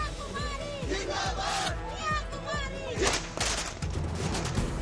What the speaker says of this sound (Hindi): जिंदाबाद के नारे लगाकर फोड़े पटाखे